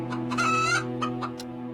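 A hen clucks in a quick series of short, close calls, sounding alone over a steady low background hum.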